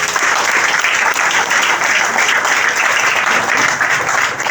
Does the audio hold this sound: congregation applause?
yes